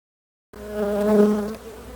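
A close buzzing hum of honeybees around an open abandoned hive rises suddenly from silence and wavers in pitch for a moment, like insects flying right past.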